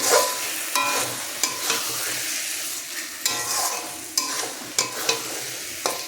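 Lote fish curry stir-fried in a pan, a steady sizzle broken by repeated scraping strokes of a spatula against the metal, close and fairly loud, with no talking.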